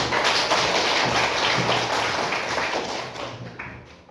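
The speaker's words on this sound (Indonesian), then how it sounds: "Jadi tepuk tangan dulu untuk kita semua" Schoolchildren clapping in a classroom, a close, busy patter of many small hands that stays strong, then thins and fades toward the end.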